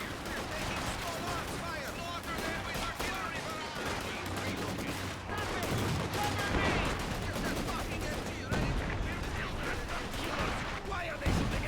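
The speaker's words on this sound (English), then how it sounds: "Why are they shooting at us?" Enemy gunfire in a war video game rattles continuously as dense, overlapping shots and bursts at steady loudness, with distant booms in the mix and no clear talk.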